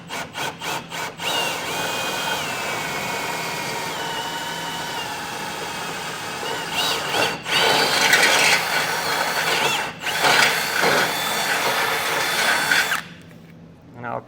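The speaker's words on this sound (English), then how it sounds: "I'm just going to take a little grinding bit here and get that material removed." A small rotary grinding bit cutting into the steel frame of a 2023 Ford Escape, a loud high-pitched whine with shifting pitch that pauses and restarts several times before stopping.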